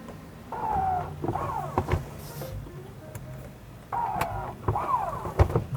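An electric motor folding the power third-row seat of a Cadillac Escalade ESV whirs in two separate runs, rising and shifting in pitch, with soft mechanical clunks and clicks between them.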